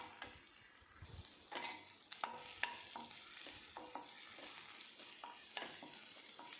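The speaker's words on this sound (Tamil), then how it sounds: "வெங்காயம் நல்லா வதங்கி வந்துருச்சு." Onions sauté with ginger garlic paste in a pan for egg gravy, faint sizzling beneath repeated close scrapes and taps of a spoon stirring against the metal.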